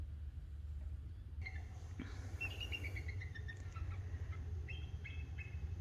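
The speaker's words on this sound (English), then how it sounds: "That's an eagle." An eagle calls outdoors on a rocky shore in Maine, a series of short, high descending chirping notes repeated in two bursts over steady low background rumble, moderately distant.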